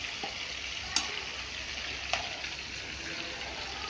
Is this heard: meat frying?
yes